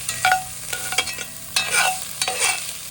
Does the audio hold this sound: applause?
no